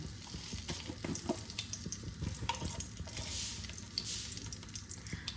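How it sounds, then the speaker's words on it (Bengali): A whole bay leaf sizzles in the hot oil left over from frying fish, a soft, steady crackle under faint scraping and stirring noises in the pan, heard close with no speech. "এবার আমি মাছ ভাজার তেলেই একটা গোটা তেজপাতা ফোড়নে দিয়ে দিলাম"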